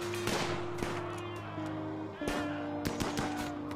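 A turret in the video game Rimworld fires a burst of sharp shots over a steady droning game soundtrack. The cracks come in irregular clusters, moderately loud.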